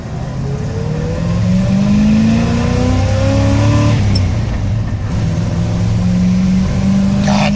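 A squarebody Chevy Suburban with an NV4500 five-speed manual and 4WD pulls away under load, its engine note climbing through gears with a shift near midway, loud and close throughout with no talking.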